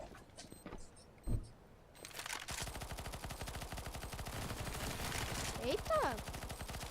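Shots ring out in the video game CS:GO, starting with a single sharp report and followed by a dense burst of rapid gunfire with clicks and game effects, all under a player's talk.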